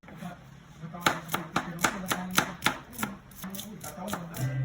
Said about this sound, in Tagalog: nag-slice na rin ako dito ng bawang at sibuyas para nga sa spaghetti natin